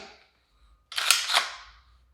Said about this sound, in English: Close the bolt. It's kind of loud, but this gun is secure